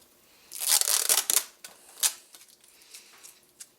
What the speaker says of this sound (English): that hose cutting tool I got worked great